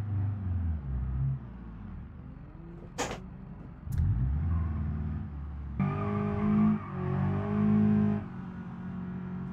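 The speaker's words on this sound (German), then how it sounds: "Wir machen mal den Motor an. Den Rückwärtsgang." A 140-horsepower car in the BeamNG driving game starts up and is shifted into reverse, its engine rumbling steadily with a couple of sharp clicks, then rising in pitch and loudness as it revs backward.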